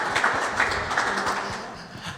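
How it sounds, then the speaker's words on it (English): Audience applause at an economic prosperity forum, a steady wash of many hands clapping at moderate distance, sustained evenly for a couple of seconds with no voices over it. "let's start out and just give Christian Kaler one more round of applause"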